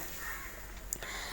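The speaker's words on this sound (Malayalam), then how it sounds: "കാക്കയൊക്കെ കരയുന്നുണ്ടേ അതൊന്നും മൈൻഡ് ആക്കണ്ട അതവിടെ കരയട്ടെ" Crows cawing outdoors near a kitchen, a harsh call or two standing out faintly over a steady background hiss, with no talk.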